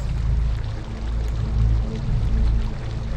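Rushing water rising and pouring in across a flooding chamber in the video game Crucible Falls, a steady loud low roar with churning surges, no talking.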